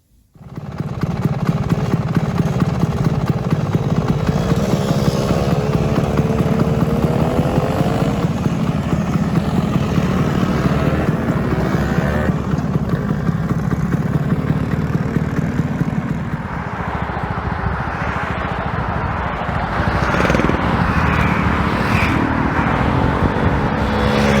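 Twelve scooters ride up the A1 road together, giving a steady, loud drone of small engines and wind rush that runs without a break, with the engine pitch shifting slightly partway through.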